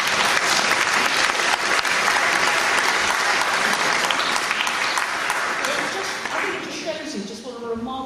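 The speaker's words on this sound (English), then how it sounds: "So a round of applause, please." Sustained crowd applause at a local community meeting for saxophonist-parent Jean Toussaint, loud and dense throughout, thinning near the end as a voice begins talking over the fading claps.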